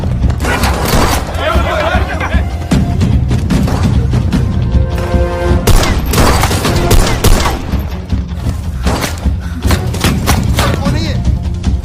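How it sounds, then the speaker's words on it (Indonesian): Intense gunfire erupts during a shootout with kidnappers in the action film Mardaani 3. Dense, loud bursts of shots and booms crack almost continuously for about twelve seconds, with a voice partly mixed underneath. "terjadilah baku tembak yang sangat dahsyat dan suara letusan itu terdengar oleh pimpinan penculik"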